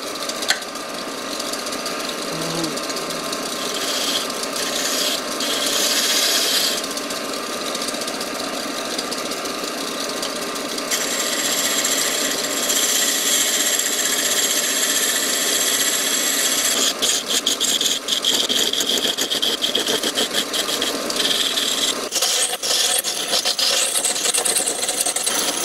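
A wood lathe spins while a carver's mallet is being turned, giving a steady loud motor whir with the rasp of tool against wood, shifting in intensity over time, close and continuous.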